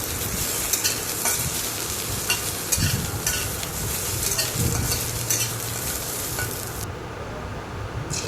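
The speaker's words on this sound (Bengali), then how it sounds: "এরপরে কাজু বাদাম কিশমিশটা আমি ধুয়ে রেখেছিলাম, ওটাকে ভালো করে ভেজে নেব গ্যাসের ফ্লেমটাকে লো করে দিয়ে" Cashews and raisins frying in ghee in a kadai over a low gas flame, stirred with a utensil: steady close sizzle with repeated scraping strokes against the pan, no talking.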